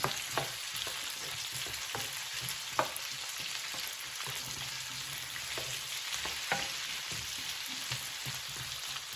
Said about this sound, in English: So we're gonna brown these potatoes.